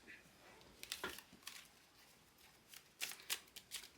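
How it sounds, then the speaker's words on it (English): Tarot cards drop and shuffle, a series of quiet crisp flicks and slaps in irregular clusters, close and soft with no talking. "I always be dropping cards."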